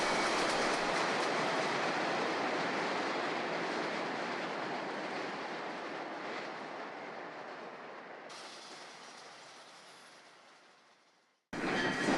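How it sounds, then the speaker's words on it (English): MP70 double-decker commuter trains roll past on the Long Island Rail Road near Rego Park, a broad steady rumble that slowly fades as they recede before cutting to another loud passing. "MP70 double-deckers are inbound to Penn Station"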